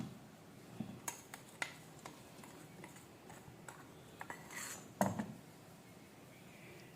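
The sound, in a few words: sifting garlic and onion powder through a small sieve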